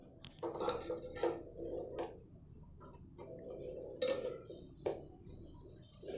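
A metal spoon clinks and scrapes against a large pot as degi biryani is served out, quiet scattered taps and clatters with pauses between them.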